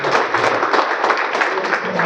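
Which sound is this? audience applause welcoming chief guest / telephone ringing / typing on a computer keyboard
audience applause welcoming chief guest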